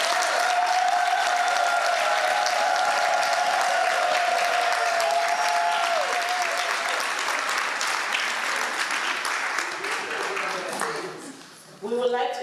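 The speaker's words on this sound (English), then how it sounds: "Please, let us give a round of applause" Audience at a convention in Houston applauding, a dense sustained wash of clapping close and loud that thins and fades toward the end.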